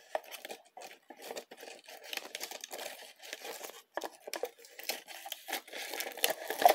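Package of treats being opened up close: continuous crinkling and rustling of plastic wrapping with small tearing sounds, irregular and moderately loud, no voices.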